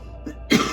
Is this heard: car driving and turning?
no